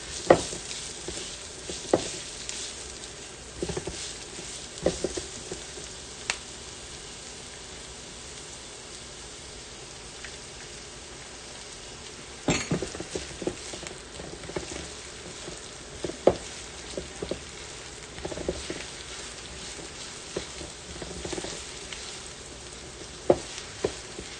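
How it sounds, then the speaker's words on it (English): Onions and garlic fry in olive oil in a pan, giving a continuous crackling sizzle punctuated by scattered sharp pops and occasional stirring clicks. "So I'm gonna cook the onions with the garlic."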